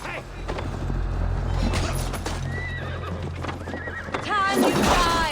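Horses in Assassin's Creed Valhalla, during the siege of Paris, give repeated whinnies and neighs over galloping clip-clop hooves and the low rumble of battle, loud and close, growing busier toward the end.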